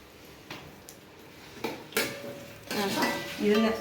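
Onions, shallots, crushed garlic and green chili going into hot coconut oil on an old-style stove, scattered clinks and scrapes building into a louder crackling sizzle toward the end, close up.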